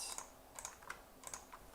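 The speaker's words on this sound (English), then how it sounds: "Okay, I'm going to type in the chat, everybody." Quiet, irregular clusters of key clicks on a computer keyboard, with soft bursts of typing and short gaps, over a steady faint background hiss.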